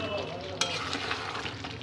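Chicken frying with tomato ketchup in a pan, a steady soft sizzle with faint scraping stirring and a single light clink, close and continuous.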